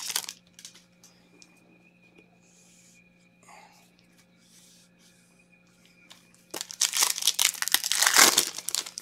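Foil trading card packs from a 2017 Bowman Chrome hobby case crinkle and tear, with quiet rustling early on and a loud, dense burst of wrapper crumpling and ripping near the end, close to the mic.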